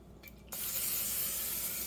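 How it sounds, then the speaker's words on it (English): Cooking spray hisses steadily from an aerosol can over drop biscuits, a close, continuous spray following a couple of faint clicks. "Gonna spray over my biscuits like this."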